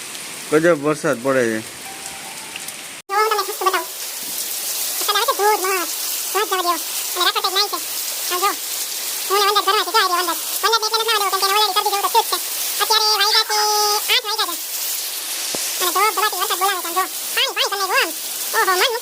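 Heavy rain pours down in Mithapur, a continuous bright hiss of falling water running steadily under a person talking at length, with no pauses in the downpour.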